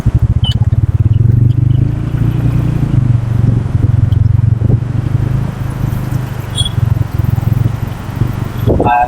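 A motorbike fitted with a Sepal bike shield rides along a main road, its engine thrumming steadily and loudly up close with wind buffeting and occasional rattles, and a voice speaks briefly.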